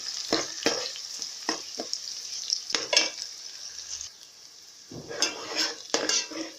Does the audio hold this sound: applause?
no